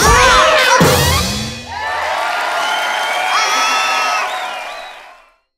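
A crowd cheers and whoops loudly at a magic trick, an excited burst of shouting that holds steady for several seconds before fading out.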